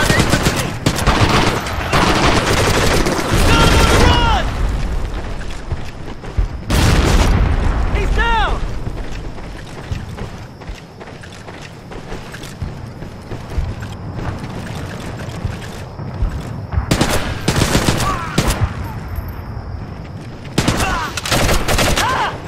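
Grenade blast and rapid gunfire from the Medal of Honor Heroes video game set in Italy, with repeated loud bursts of shooting and booms mixed over continuous battle noise and shouted voices throughout.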